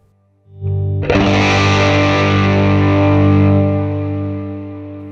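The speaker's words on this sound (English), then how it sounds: "going to go into the amp and turn the gain all the way up. Then, I'm going to reorder the chain and put the delay at the end" Electric guitar through a Fender Mustang GT amp with gain at maximum and delay at the end of the chain: one heavily distorted chord rings out loud and sustained, slowly decaying with a faint delay wash.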